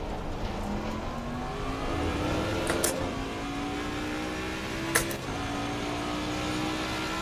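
Mustang race car in Assetto Corsa Competizione, the engine droning steadily and climbing in pitch as it accelerates through the gears, loud and close, with a couple of sharp clicks.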